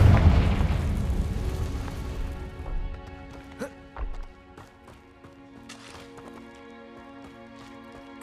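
A Confringo spell blast in Hogwarts Legacy, a loud booming explosion at the start that decays into rumbling debris and scattered impacts, followed by quieter game ambience and soft musical tones.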